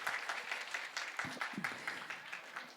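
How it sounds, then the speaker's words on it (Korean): A church youth-service congregation applauding, a steady moderate patter of clapping sustained throughout with no clear talk over it. "우리 수고 많았다고 박수로 한번 좀 격려해 주세요."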